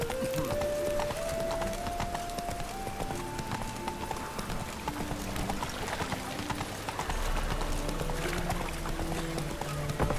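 Hooves of Roach, Geralt's horse in The Witcher 3, clip-clopping in a steady gait, close and continuous, under a running musical score with a brief snort.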